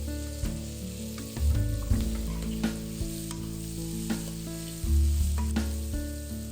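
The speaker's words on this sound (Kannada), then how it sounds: "ಕ್ಯಾಬೇಜ್ ಹಾಕ್ತಾ ಇದ್ದೀನಿ. ಸ್ವಲ್ಪ ಫ್ರೈ ಮಾಡ್ಕೊಳ್ಳೋಣ." Chopped cabbage and onion fry in a pan, with a loud close sizzle, a few metallic scrapes of stirring and some tonal ringing from the pan, with no talk.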